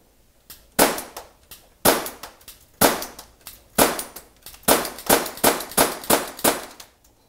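Tokyo Marui LCP compact gas airsoft pistol firing a string of about ten loud, sharp close-up shots, spaced roughly a second apart and quickening toward the end, each with a snappy metallic crack.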